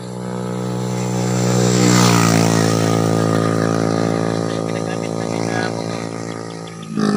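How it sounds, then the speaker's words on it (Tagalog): Motorcycles race past on a road, engines roaring loud and close with a rising then falling pitch sweep as one passes, a steady drone continuing throughout with no talk. "Yung mga dumadaan dito na ano, mga motor"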